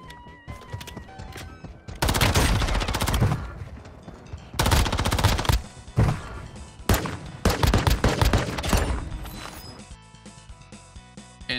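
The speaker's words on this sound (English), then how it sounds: "And the fucking gun went off" Rapid bursts of automatic SMG gunfire from Warzone Mobile, loud and close, with several sustained volleys separated by short pauses and a quieter mechanical tail at the end.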